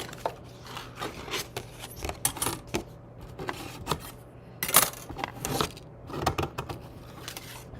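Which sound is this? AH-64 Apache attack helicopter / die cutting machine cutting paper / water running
die cutting machine cutting paper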